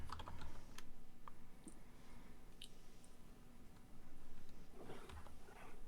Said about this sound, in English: he's typing as fast as he can